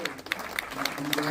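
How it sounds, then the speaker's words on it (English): Brief scattered clapping from a small audience for Jeff at a Knott's Scary Farm props presentation, a few distinct claps under and alongside talking. "Let's give Jeff some applause."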